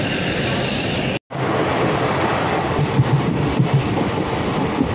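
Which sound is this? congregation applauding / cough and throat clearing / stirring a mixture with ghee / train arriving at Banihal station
train arriving at Banihal station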